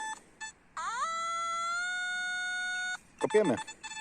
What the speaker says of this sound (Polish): I mamy kolejny sygnał pod monetę